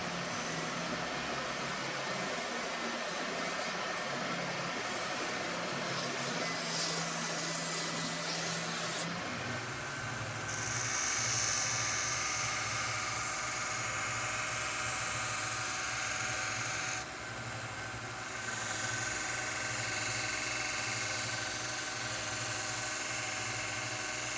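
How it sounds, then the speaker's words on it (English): An oscillating sander and a 1-inch belt sander shape an exotic wood knife blade, giving a continuous close abrasive whir and grinding hiss whose pitch and texture shift partway through. "Next, I use my oscillating sander to smooth out the edges, and then my 1-inch belt sander to create the main bevels in the blade."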